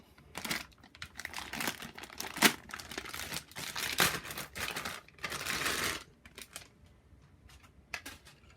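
Plastic parts bags from a Tamiya Lunchbox Black Edition RC kit being torn open and handled, with loud crinkling and rustling bursts coming in uneven waves close up, fading to occasional crackles near the end.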